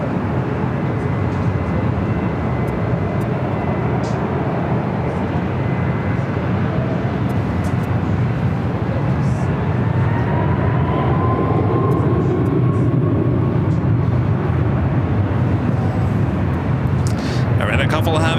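An airliner takes off from runway 24 right at LAX, a steady broad roar of jet engines holding throughout, with a faint rising tone partway and no talk.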